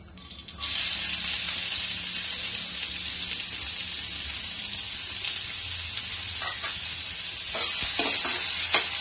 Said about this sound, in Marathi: कांदा चांगला परतलाय बघा